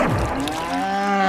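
A water buffalo gives one long, low moo lasting just over a second, close and clear, with a rich droning tone and no voices around it.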